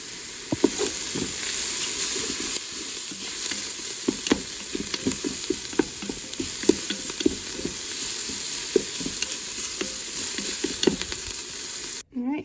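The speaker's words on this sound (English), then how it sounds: "I'm going to add 2 cloves of minced garlic. And then I'm going to saute that just another minute" Minced garlic sautés in a Ninja Foodi Grill, a bright steady sizzle close by with frequent rhythmic scraping taps from stirring, ending in a brief clunk.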